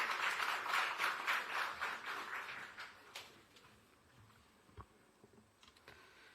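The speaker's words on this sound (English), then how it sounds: "Let's welcome him with a clap" An audience at a formal event attended by Kenyan President William Ruto claps to welcome an Amazon Web Services Support speaker, a dense burst of applause that thins out after about three seconds, leaving a few scattered claps and quiet room noise.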